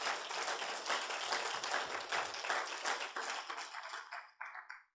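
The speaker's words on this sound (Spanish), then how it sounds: "Denle un aplauso al Señor ahí." A church congregation claps together during a sermon, a dense burst of applause whose individual hand claps are audible, fading out raggedly near the end.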